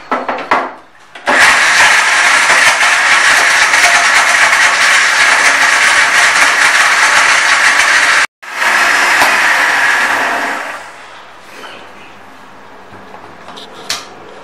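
A mixer-grinder whirring for about eight seconds as it grinds dates with salt and chili for chutney, loud and steady, cutting out briefly, then running again before winding down into quiet.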